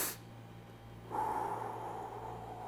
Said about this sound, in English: You're going to breathe in through your nose twice, and you're going to do it quickly, especially on the second breath.